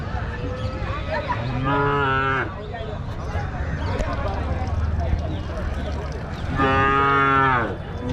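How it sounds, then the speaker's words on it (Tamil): Cattle, bulls and calves at a livestock market low loudly in two long, harmonic moos, one early and one late, over a steady din of farm-yard background noise. "இந்த ரெண்டு ரெண்டு காளை இருக்குங்க ஒரு ஜோடி காளை வாங்கி கட்டி வச்சுருக்காங்க"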